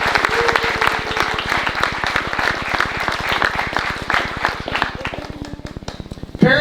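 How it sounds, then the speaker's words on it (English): Students, families, friends and presenters are applauded by an audience at a school breakfast event, with dense, steady clapping that carries on loudly and fades near the end. "Please join me in another round of applause for all of our students,"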